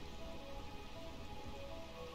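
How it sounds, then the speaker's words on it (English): Steady heavy rain pouring down in the rain-soaked city of Burmecia in the video game Final Fantasy IX, a dense continuous hiss alone with no talk. "It's pouring down rain."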